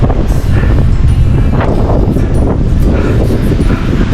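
Strong wind high up beside a balete tree roars and buffets the microphone in a loud, constant rush that barely lets up.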